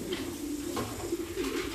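Adult domestic pigeons in breeding pairs coo softly in a loft where they are raising young. The low, repeated coos are quiet and nearby, with faint rustling in the background and no talking.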